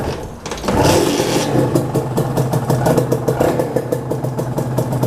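A Kawasaki KR SE two-stroke motorcycle fires up and then idles with a rough, rapid chatter close by. Short revs rise through the idle, all loud and unaccompanied by speech.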